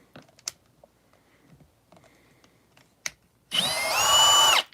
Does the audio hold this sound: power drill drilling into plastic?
yes